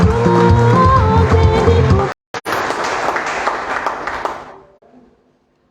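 An audience at a Catholic social day in Gabon applauds a speaker with dense, loud clapping and some voices mixed in. The applause cuts out briefly, resumes, and then fades to silence.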